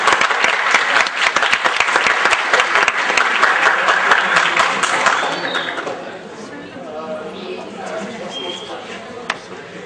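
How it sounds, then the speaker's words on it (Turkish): Audience clapping for students at a Quran recitation competition, loud dense applause for about five seconds that thins into scattered claps and murmuring chatter from the crowd. "Alkışlarla öğrencileri aşağıya alıyoruz."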